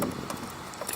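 Keys jingle and click briefly, turned in the ignition of a TaoTao ATM50-A1 scooter, with wind rumble in the background.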